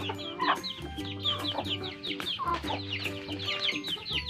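Chickens clucking nearby in a repeated, busy rhythm of short calls over a low steady hum, with no talking.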